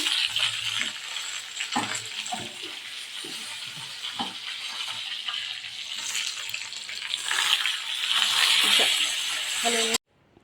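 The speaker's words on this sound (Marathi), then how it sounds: "आता त्याला परतून घ्यायचं शेंगदाणे हे खरपूस भाजीपर्यंत" Peanuts, garlic, cumin and chopped coriander sizzle and get stirred in a pan, a steady loud frying hiss broken by occasional scraping knocks of the spoon.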